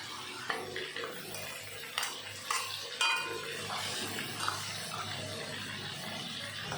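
Crab being stirred with salt and turmeric in a pan: soft scraping and light utensil taps over a quiet, low sizzle, with a few sharper knocks, fairly close and without talk.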